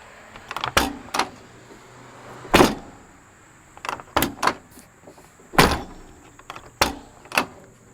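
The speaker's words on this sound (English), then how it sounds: "Look how nice that door shuts." Rebuilt car door with a used latch being shut repeatedly, a series of sharp solid thuds and latch clicks spaced a second or two apart, close and loud, with quiet pauses in between.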